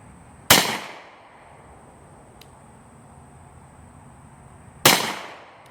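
Two loud, sharp gunshots from a Kel Tec Sub 2000 carbine in .40 S&W ring out outdoors several seconds apart, each a sudden crack with a short decaying echo, and nothing else heard between them.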